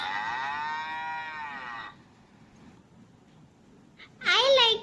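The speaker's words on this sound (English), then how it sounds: "Look at these calves." Calves on a farm give one long, drawn-out moo lasting about two seconds, followed by a quiet stretch and then a short, higher voice near the end.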